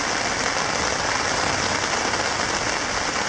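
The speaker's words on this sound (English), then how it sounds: "Man, is it ever raining." Heavy rain pours down steadily in a wilderness canoe-trip setting, a loud, dense, unbroken hiss of drops striking the surface all around, with no talking.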